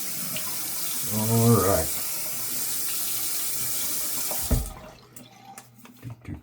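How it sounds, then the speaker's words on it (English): A bathroom tap runs water to wet a shaving brush before a head shave, a steady splashing rush that stops abruptly, followed by a few small clinks and handling sounds; someone speaks briefly over the flow. "So let's get the brush wet and get this brush loaded"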